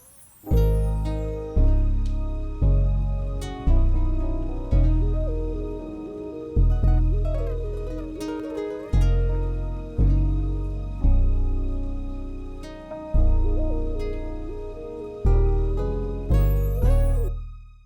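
A hip hop beat with deep booming 808 bass hits pulsing in a steady rhythm, layered with melodic synth and percussion, loud and upfront.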